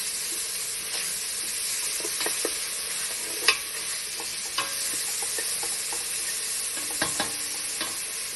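Smoked bacon sizzles in a hot pan as its fat renders, a steady close crackling hiss with scattered pops and a few sharp spatula taps, no talking.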